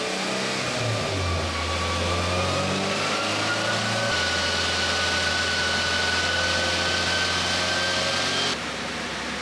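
A K24-swapped FRS running on E85 revs hard through a dyno pull, engine note climbing steadily with a whining tone over several seconds, with a loud roar and a sharp shift partway through.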